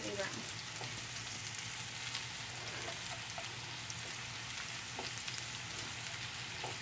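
Onions and green chili sizzle and fry steadily in a pan for vegetable fried rice, a continuous crackling hiss with small pops, close and alone.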